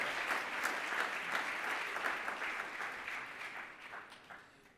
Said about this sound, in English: A round of Take care. applause.